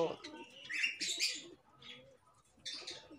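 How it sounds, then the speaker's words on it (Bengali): Pet cockatiels chirp in short, bright bursts close by, several separate calls with quiet gaps, heard against low background murmur. "আজকের কিছু ককাটেল পাখির দেখাবো আপনাদেরকে।"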